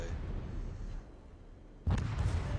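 Warship guns firing in the naval video game World of Warships: a steady rumble of distant battle, then a sudden heavy boom that cuts in near the end and rings out loudly.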